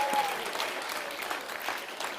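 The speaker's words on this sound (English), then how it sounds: "our PhD students and technical staff deserve another round of applause" Brief audience applause at an institutional foundation day celebration, a moderately loud patter of many hands clapping, fairly uniform over a couple of seconds, with a short faint tone near the start.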